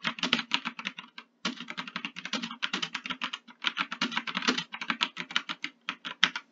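Steady, rapid typing on a computer keyboard while writing in Google Colab: close, crisp key clicks in quick bursts with a brief pause partway through, with no talking.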